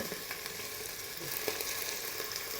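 Beef pieces browning in a frying pan give a steady, close sizzle and crackle throughout, with no voices.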